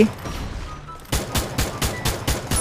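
Rapid bursts of M14 rifle fire in the Free Fire battle royale game, roughly eight sharp, evenly spaced shots after a quieter lead-in, loud and close.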